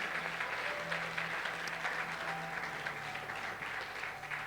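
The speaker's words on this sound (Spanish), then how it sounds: "Fuerte aplauso." A youth church gathering applauds in a continuous, moderately loud patter that stays even throughout, with a faint low hum underneath.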